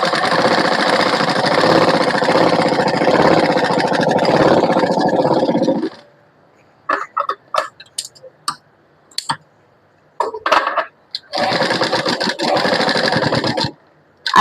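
A sewing machine stitches the side seam of a small child's kurti. It makes a loud, fast run of needle clatter for about six seconds, then a few short stop-start bursts, then another long burst.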